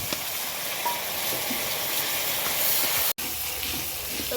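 Spice paste of ginger-garlic, dried chilli, turmeric, cumin, coriander and a splash of water sautéing in a pan, a constant broad sizzling hiss, near and even, with a momentary dropout.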